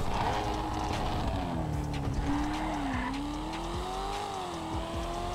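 Mercedes S63 sedan in GTA 5 racing hard through traffic, its engine droning steadily with rising and falling pitch as tires squeal and skid repeatedly, loud and continuous throughout.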